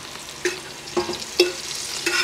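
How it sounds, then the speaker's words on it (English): Bacon tossed into a hot pan with cabbage, sizzling steadily at close range while a spoon scrapes and stirs in several distinct strokes. "And now we're gonna add in that bacon. Add that bacon in."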